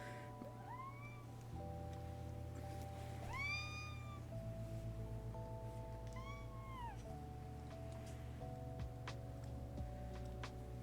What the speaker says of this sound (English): Did you hear the Velcro meows